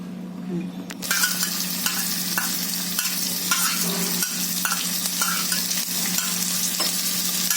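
Green chilies fry steadily in hot oil for a chutney made from ridge gourd peels, sizzling loudly and continuously after a sharp start, with occasional stirring clinks.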